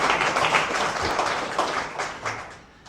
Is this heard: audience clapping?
yes